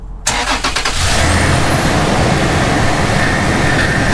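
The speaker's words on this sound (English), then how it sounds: "We started up the engine and the level dropped more than we thought it would" A fifth-generation Toyota 4Runner engine cranks briefly and fires, then settles into a loud, steady idle close by, with a faint rising whine riding over the rumble.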